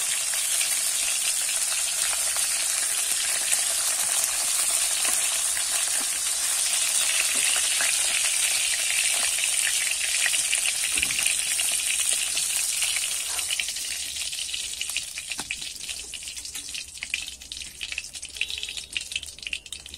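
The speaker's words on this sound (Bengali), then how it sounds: "মাছটা আমি ভালো করে ভেজে নেব" Fish frying in hot oil in a pan, a loud continuous close sizzle with bubbling crackle that eases slightly toward the end, no voices.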